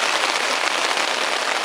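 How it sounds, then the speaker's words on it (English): Rain falls steadily at a riverside boat ramp on the Oconee River, a dense, even hiss of drops close by with no voices. "Started raining."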